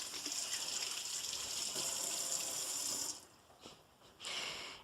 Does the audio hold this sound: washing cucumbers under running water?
yes